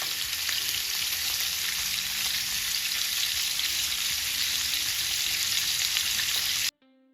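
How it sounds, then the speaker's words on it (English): Food frying in a pot while making a seafood boil, a steady loud sizzle and crackle running without a break for several seconds, then cutting off abruptly at the end. "we're gonna allow this to fry, just to crisp up a little bit on each side before taking it out"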